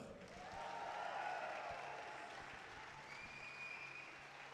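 A crowd at a climbing competition applauds and cheers for a climber, a broad swell of clapping that builds quickly, peaks, then holds steady with scattered whoops and whistles.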